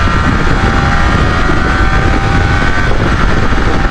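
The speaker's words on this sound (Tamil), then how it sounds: "கிளச் பிடிக்காம கியர் போடுறேன்." A Yamaha R15 V4 MotoGP Edition motorcycle accelerates hard using its quick shifter, a loud, steady engine roar under heavy wind rush with no clearly separate gear-change breaks.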